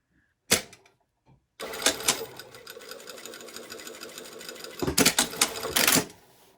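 A sewing machine bastes two pleats on a tower sleeve placket in one quick burst of rapid stitching lasting a few seconds, with sharp clicks and taps of handling just before and after.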